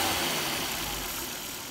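A Volvo V70 engine runs steadily, raised to about 2000 rpm while cleaning liquid is fed into the throttle body intake tube, giving a continuous close mechanical drone with no talk.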